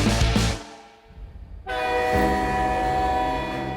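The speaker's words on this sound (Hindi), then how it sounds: "वंदे भारत, इंडिया की सबसे modern and fastest train service" A Vande Bharat express train sounds a loud sustained horn, breaks briefly, then blasts again with a rich, multi-toned, steady horn close by, over the rushing roar of the passing train.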